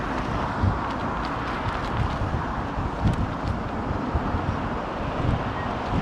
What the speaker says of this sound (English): the wind's gone mental